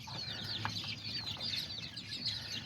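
A Silkie hen clucks softly among other small farmyard chickens and roosters, her low murmurs mixed with a steady chorus of distant bird chatter and rustling outdoors.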